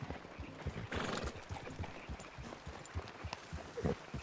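Horses walk in Red Dead Redemption 2, giving a steady clip-clop of hooves on the ground, close and even-paced throughout, with soft snorts and no talk over it.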